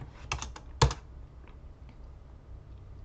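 Keys clatter on a computer keyboard at a desk setup with a Raspberry Pi 5. A quick burst of several clicks is followed by one sharper stroke and then a few faint taps, close and quiet, with no voices.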